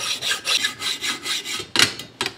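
Steady back-and-forth rasping strokes of a hand hacksaw cutting threaded rod, about eight even rhythmic strokes close by, ending with a couple of sharper, louder passes.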